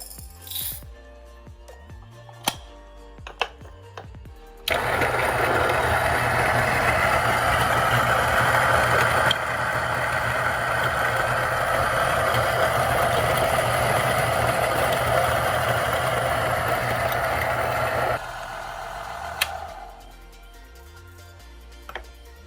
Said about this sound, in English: we are going to be using our niche grinder